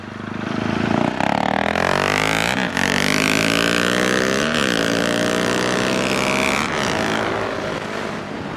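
A 2020 KTM 690 and a DRZ 400 motorcycle race across a lot, engines roaring loud and close with rising, falling pitch as they rev hard through gear changes.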